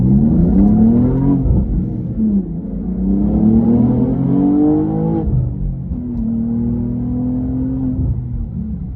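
A BMW M2 engine revs hard and drops back repeatedly, with rising and falling growls, a rough rumbling idle in between, loud and close with no talking.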